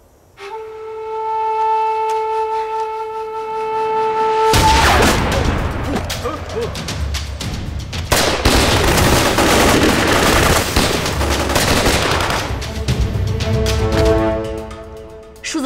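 Heavy gunfire from a war drama set against Japanese soldiers: after a quiet tonal opening, a sudden loud burst of rapid shots and explosions rolls on for about ten seconds, close and dense, then fades back to calmer music.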